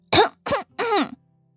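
Throat clearing and coughing in three quick bursts, close and clear, performed by an audiobook narrator voicing a character, ending in silence.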